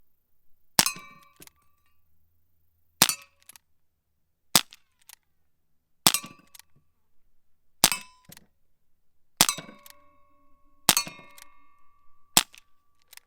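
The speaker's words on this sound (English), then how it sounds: "So I've got 8 targets down there, 8 shots in the mag." Gamo PR-776 CO2 pellet revolver firing eight rapid shots at metal targets, each a sharp crack followed by a ringing metallic clang, spaced about one to two seconds apart, with no talking.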